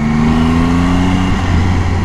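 Steady mid-pitched drone of a Triumph Tiger 800 XCA adventure motorcycle's engine while riding, with a sustained tone that shifts slightly in pitch, loud and close.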